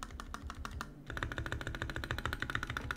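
NK65 mechanical keyboard keys pressed one after another in testing, a brisk, even run of close, clacky keystrokes that grows louder and sharper partway through and continues steadily without any talking.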